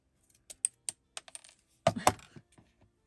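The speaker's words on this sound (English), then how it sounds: "cut us off a piece of straw" A plastic drinking straw snipped with scissors at a craft table: a few sharp, separate clicks and snips spaced over a couple of seconds, close and fairly quiet, with a louder double snip near the end and no talking.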